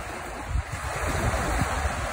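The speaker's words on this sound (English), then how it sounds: "These waves breaking," Waves break on Lake Mille Lacs in a steady, close wash of surf, the crashes overlapping without a clear rhythm, with light wind rumbling across the microphone and no voices.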